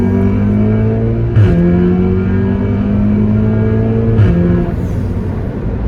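An Audi S3 Stage 2 fitted with a Milltek exhaust accelerates hard and close, its engine note climbing steadily. Two quick gear shifts come with short pops before the pitch rises again.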